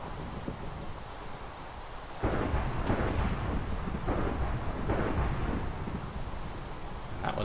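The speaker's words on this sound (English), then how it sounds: "That was lightning striking somewhere relatively nearby." Thunder from a nearby lightning strike in the Minecraft video game breaks in suddenly as a loud, sustained rumble over a windy background, with no talking.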